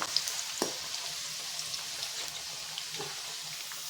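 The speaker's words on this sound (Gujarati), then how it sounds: "ટીંડોળાને આપણે તળાવવા દઈશું" Ivy gourd (tindora) deep frying in hot oil over a high flame, giving a steady, fairly faint sizzle with a few soft clicks and pops of bubbling oil, with no one speaking.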